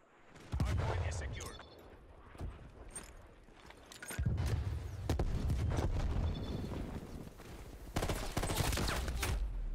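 Rapid gunfire in the shooter game Black Ops Cold War, dense bursts of automatic shots and heavy impacts in several loud clusters with brief lulls between them.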